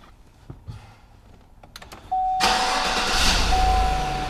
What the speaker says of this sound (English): what I'm going to do is start the engine.